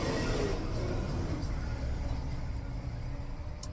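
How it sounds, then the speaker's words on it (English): A truck passing on the street, a steady low rumbling roar close by that slowly eases off, with no talk over it. "Hold on, let this truck pass by."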